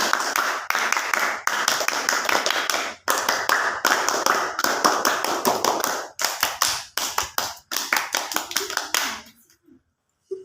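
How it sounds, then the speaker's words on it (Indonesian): Group of children doing Scout-style rhythmic clapping, tepuk pramuka, in counted bursts of sharp, loud claps separated by short pauses, the patterns growing more complex before ending in silence. "Tepuk 4. Tepuk 5. Tepuk 6. Tepuk pramuka."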